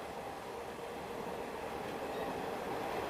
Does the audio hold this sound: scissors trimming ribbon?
no